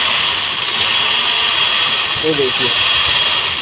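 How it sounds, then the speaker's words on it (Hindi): Misfiring car engine idling roughly and vibrating, a steady close mechanical drone with uneven pulsing, while someone speaks briefly over it. "इंजन बिल्कुल वाइब्रेशन दे रहा है और इंजन मिसिंग चल रहा है"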